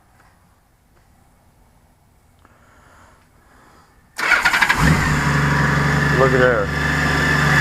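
Trike engine cranks and fires up after quiet rustling, catching abruptly and settling into a loud, steady running rumble close by, with a brief spoken remark.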